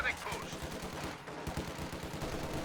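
Machine gun fire in Company of Heroes, a World War II strategy game, with a gun emplaced in a church; rapid dense bursts of gunfire continue throughout amid other battle noise.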